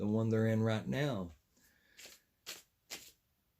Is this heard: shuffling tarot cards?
yes